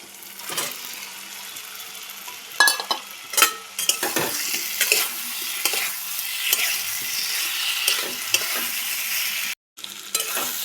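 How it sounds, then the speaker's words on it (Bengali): Fried potato and taro are stirred into sizzling spice masala in a pan, with a steady close sizzle broken by repeated scraping and clattering of a spatula against metal, and one short pause. "মশলা থেকে তেল বেরিয়ে এসেছে, এবার দিয়ে দেবো আলু কচু ভাজা।"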